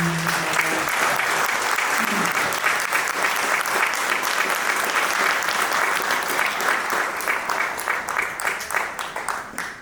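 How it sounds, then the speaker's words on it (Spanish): A church congregation applauds a small child during a service, producing dense, sustained clapping that fills the room and tapers off toward the end, with a brief voice at the start. "Un aplauso para este pequeño."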